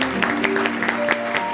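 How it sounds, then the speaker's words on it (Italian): Canned applause triggered on command in a studio, a steady dense patter of clapping with a faint voice over it. "sono applausi finti, ma che abbiamo voluto perché ci piace un po' riempire, quindi sono applausi a comando"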